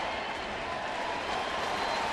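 Baseball stadium crowd cheering and applauding as a 3-0 count builds in a Milwaukee at St. Louis game, a steady broad roar of many voices and clapping at a distance, unbroken throughout.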